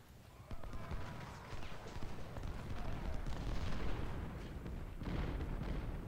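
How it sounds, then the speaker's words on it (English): Distant artillery booms thud irregularly beneath a continuous din of battlefield noise, with sharp transients scattered through the mix, during a Civil War battle in Ultimate General: Civil War. "Enemy artillery fire."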